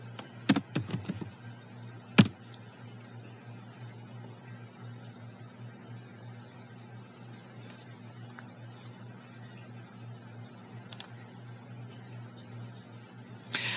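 A handful of quick keystrokes on a computer keyboard entering a number sound near the start, faint against a low steady room hum. A couple of isolated clicks follow later.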